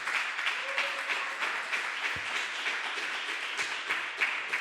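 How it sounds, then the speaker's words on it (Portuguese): A church congregation claps for the Lord during a sermon, steady moderate applause with a few louder thumps, held at an even level throughout. "Vamos aplaudir ao Senhor, igreja."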